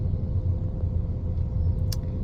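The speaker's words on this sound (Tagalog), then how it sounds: "Ayan pala yung traffic sa harap natin, guys, no?" Low, steady rumble of heavy road traffic on EDSA, engines idling and rolling close by with no talking.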